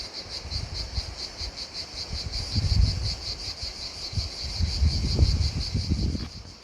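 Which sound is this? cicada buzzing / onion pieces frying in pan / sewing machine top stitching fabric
cicada buzzing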